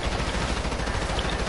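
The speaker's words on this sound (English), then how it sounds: "Oh, they shooting at me, they busting" Sustained rapid gunfire in the video game GTA, a loud, dense burst of overlapping automatic shots that continues without a break.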